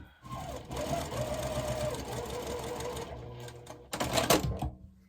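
A sewing machine runs at close range in one steady burst, stitching the stem of a quilt block. A short, sharper flurry of stitching near the end sounds before it stops.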